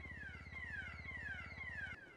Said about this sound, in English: We're gonna ignore the alarms, right?